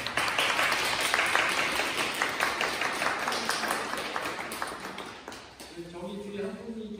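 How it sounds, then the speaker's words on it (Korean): Warm applause from a church congregation welcoming visiting missionaries, dense sustained clapping that gradually thins out, followed by a voice beginning to speak near the end. "우리 박수로 마음 다해 환영하겠습니다"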